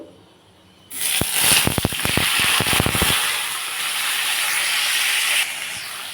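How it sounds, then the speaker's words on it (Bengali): Potatoes, pumpkin, pointed gourd and tomatoes drop into hot oil flavoured with five-spice seeds and bay leaf and erupt into a loud, steady sizzle with crackling pops at the start. The hiss holds for several seconds, then eases slightly. "আমি আলু কুমড়ো পটল টমেটো সব একসাথে দিয়ে দেবো"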